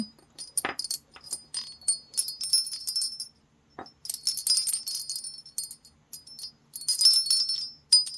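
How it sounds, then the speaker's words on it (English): A small wind chime pulled from a jar of thrifted jewelry rings indoors in bright, close metallic tinkles, coming in bursts with a short pause midway and no voices. "I think we have a wind chime in here."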